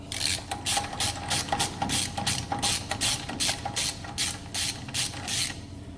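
Rapid ratcheting from a hand wrench tightening the spindle nut during truck front brake reassembly, a steady run of close, loud clicking bursts with brief pauses between strokes.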